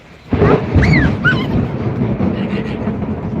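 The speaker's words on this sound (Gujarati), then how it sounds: "વીજળીનો કડાકો થઈ ગયો જબરજસ્ત" A loud thunderclap bursts suddenly during a rainstorm, then rolls on as a sustained low rumble, while birds call over it.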